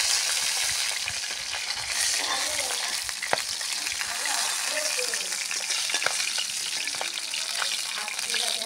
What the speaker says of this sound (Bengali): দেখো, আমি এবার সব মাছ আমার ভাজা হয়ে গেল